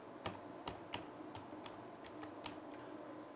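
Keys on a computer keyboard are tapped one at a time in an irregular, unhurried rhythm, sharp faint clicks over a quiet room hum with no talking.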